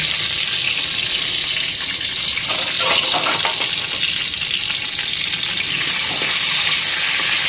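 Spices sizzle in hot oil in a karai as cinnamon, bay leaf and dried red chilli are tempered, a steady bright crackling hiss running close and loud throughout with no break.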